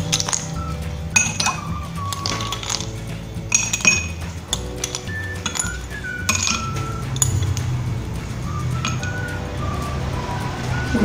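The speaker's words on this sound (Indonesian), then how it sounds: "es batu secukupnya ya." Ice cubes clink and rattle into a serving glass of Yakult lemonade: a series of bright, sharp glassy knocks and pings, close and loud, with a brief voice in the background.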